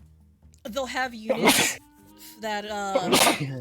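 Two sharp sneezes burst out amid casual conversation, each a loud explosive burst, with people talking between and after them.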